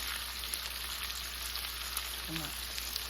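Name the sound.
searing pork shoulder roast on the stove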